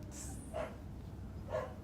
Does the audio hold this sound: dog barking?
yes